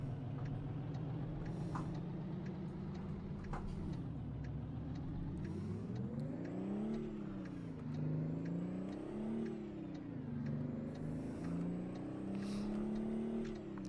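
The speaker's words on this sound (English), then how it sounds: "Oh wow, a lot of traffic." Road traffic flows past in American Truck Simulator: a steady drone of engines whose pitch rises and falls as vehicles pass and accelerate, filling the whole stretch without any talk.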